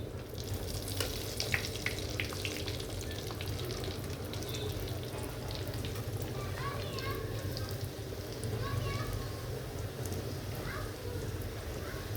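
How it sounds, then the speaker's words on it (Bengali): Luchi, a puffed Bengali flatbread, frying in hot oil gives a steady, close, dense sizzle that crackles on without pause. "আমি তেলেই লুচিটা ভাজবো।"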